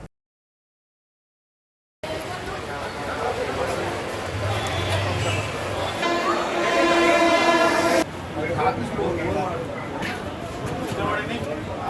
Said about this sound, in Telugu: తాడేపల్లిగూడెం రైల్వే స్టేషన్ అనేది అతి ముఖ్యమైనటువంటి రైల్వే స్టేషన్.